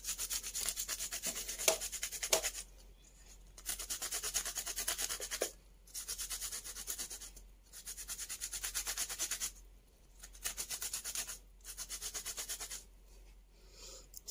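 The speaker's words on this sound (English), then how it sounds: "I'll be grating it because it's easier for me this way." A cucumber is grated by hand in repeated bursts of quick rasping strokes, each lasting a second or two and separated by short pauses. The scraping is close and fairly soft, with no talking.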